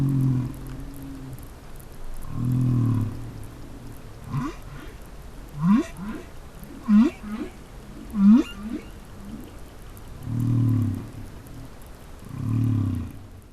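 Whale vocalizations recorded in the ocean: a series of low, moaning calls and several rising upsweeps, repeated at intervals over a steady undersea hum.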